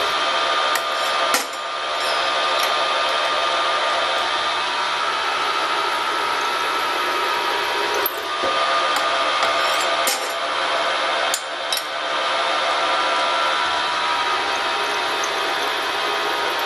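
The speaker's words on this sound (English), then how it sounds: "we're drilling up these now" Metal grates drilled with a power drill, a steady high whining drone running throughout, with a few brief clinks and a short dip where the bit pauses, close and loud, no talking.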